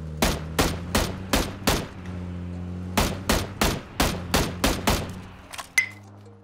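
Video game gunfire: sharp shots ring out in rapid bursts, two volleys of evenly spaced shots, loud and close against a low droning hum.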